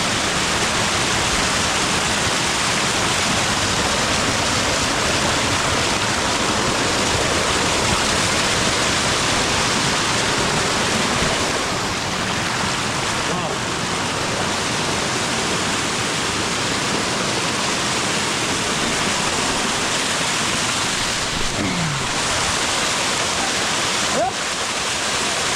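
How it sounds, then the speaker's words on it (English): River water rushing steadily along a forest pathway, a dense, continuous broadband roar like a waterfall or fast stream, close and loud throughout with no pauses. "you can see how this kind of the river is flowing meticulously and awesome"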